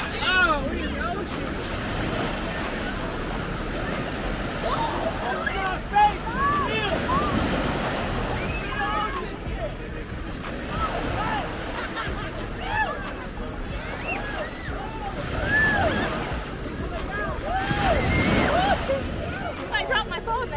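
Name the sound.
ocean waves and surf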